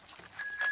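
A cartoon bicycle bell gives two or three quick bright rings, close and clear, with no talking over it.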